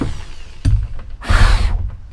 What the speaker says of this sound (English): should be done with the drill now